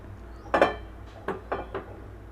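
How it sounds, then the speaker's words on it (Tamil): Pan set down on a stovetop, a few close clanks and knocks of metal and utensils over a low background hum, with no one talking. "அடுப்பில் ஒரு பேன் வச்சு ஆயில் ஊற்றிக்கிங்க."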